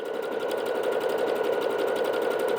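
A Bernette B-77 sewing machine stitches a side-to-side zigzag pattern, running as a steady, close, rapid mechanical whirring hum with even rhythmic needle pulses throughout.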